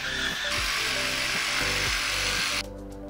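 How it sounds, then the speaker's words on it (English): A power drill bores into wood at close range, a loud buzzing whine with a pitch that wavers as the bit bites. It runs steadily for about two and a half seconds, then cuts off to a quieter low hum. "I drill it from both ends now"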